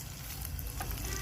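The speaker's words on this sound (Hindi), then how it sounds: "बस 1 से 2 मिनट हम इसको ऑयल में बस फ्राई करेंगे" Capsicum fries in a few tablespoons of hot oil in a pan, a brief, even sizzle that holds steady and close with no voices.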